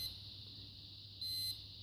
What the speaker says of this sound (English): there's 3 beeps to tell you